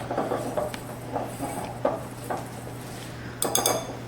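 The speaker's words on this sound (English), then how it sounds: "I like to whisk the dry ingredients together so they're nice and incorporated" Dry pancake ingredients for zucchini pancakes, with spices, are whisked together in a bowl, giving soft repeated scraping and clinks of the whisk against the bowl, with a sharper burst of clatter near the end.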